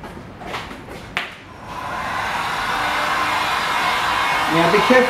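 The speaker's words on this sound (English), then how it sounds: "I'm going to get my dryer and express dry that so it's dry enough to recoat." A hair dryer blows steadily on fresh brushed-on touch-up paint in a scratch repair, starting after a few brief knocks and then running as a loud, continuous close-up roar that builds slightly over several seconds.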